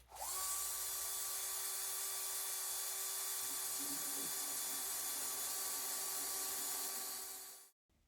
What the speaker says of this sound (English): now it's time to get serious to drill the big holes with this enormous drill bit